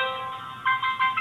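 A phone on a PC telephony call gives a brief electronic ringtone, a warbling tone that pulses a few times in quick succession, clear and close.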